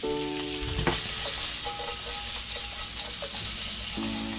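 Garlic fries in a pan without a wok, giving a loud, close, steady sizzle with a few clinks and stirring knocks and no speech.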